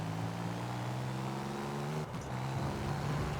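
A small 1.9 diesel car engine in Forza Horizon 5 holds a steady, buzzy, droning rev with a brief dip partway through before climbing back to the same note.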